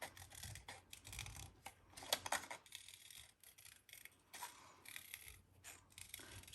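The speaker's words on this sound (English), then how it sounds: "I'm gonna cut her little portrait out of this one." Quiet, close snipping of scissors cutting a paper portrait out of a sheet, repeated crisp blade closes with small rustles of paper in between, no talk.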